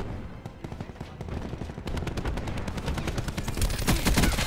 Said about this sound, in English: Quit your shooting at my teammates now.